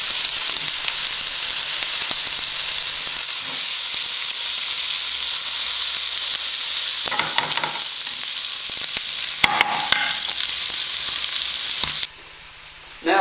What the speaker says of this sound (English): Going to put my sausages on now.